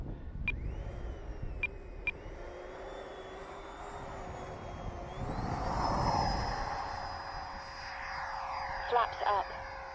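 A Freewing F22 Raptor 90mm electric ducted-fan RC jet spools up and takes off in fog, a rising whine that swells into a louder rushing roar, with a few sharp clicks and beeps heard nearby.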